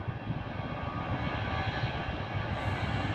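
A steady, loud jet engine roar with a broad rumble, sustained throughout, like an airplane powering up for takeoff.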